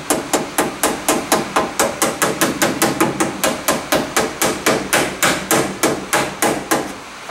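Steel hammer striking sheet metal held against a flat-edged shrinking dolly, about two dozen sharp metallic blows in a quick, steady rhythm, close and loud, with no talking.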